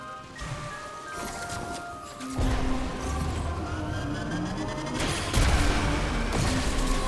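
Power bomb detonating in the video game Metroid Prime 4: Beyond, a building rumble that surges into a loud blast, followed by a second strong burst with layered booming and crackling effects.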